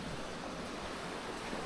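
A small, clear mountain stream in a valley on Mount Bismo flows with a steady, soft rushing hiss, faint and continuous with no voices.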